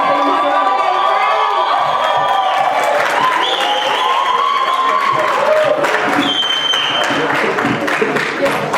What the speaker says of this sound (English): Big clap for them again, please.